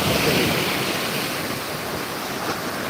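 Ocean waves at Gandhi Beach in Pondicherry wash in as a continuous, dense roar of surf, steady and fairly loud with no voices over it.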